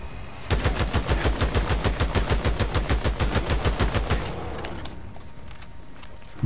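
Rapid automatic gunfire from the video game Days Gone, a steady burst of evenly spaced shots lasting about four seconds, then stopping and leaving quiet background.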